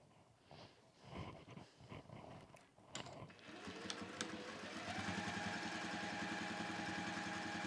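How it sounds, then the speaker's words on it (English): A sewing machine stitches a cork and velvet pouch, starting after some quiet handling noises and rising into a steady, rhythmic mechanical whir that runs to the end. "I'm going to sew straight down there."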